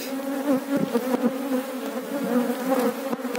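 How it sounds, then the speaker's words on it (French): Honeybees swarm with a dense, steady buzz inside an opened, very strong hive, close and continuous, with individual bees droning past and no talking. "je vais ouvrir la ruche et je vais vous montrer ça"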